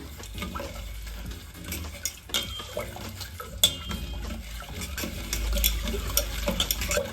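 Jaggery, about a quarter kilogram, being stirred in water to dissolve it, a steady soft swirling and scraping with occasional light clinks, close and moderately quiet, with no talk.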